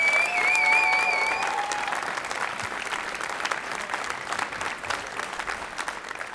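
A studio audience on an Armenian TV show applauds, a loud, dense burst of clapping that eases slightly but keeps going throughout, with a brief whistle near the start.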